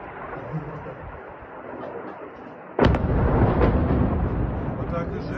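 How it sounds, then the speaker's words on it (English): A missile strike on a thermal power plant lands with a sudden heavy blast, and a deep, loud rumble rolls on after a low, steady background murmur. "You can hear that huge explosion."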